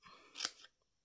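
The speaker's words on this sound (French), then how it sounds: "à l'aide des ciseaux, on va venir... Hop. On va venir couper et affiner nos 4 coins." Scissors trimming the corners of a handmade beach treat bag, a single short crisp snip close up, quiet and alone.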